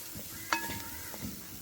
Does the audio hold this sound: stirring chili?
yes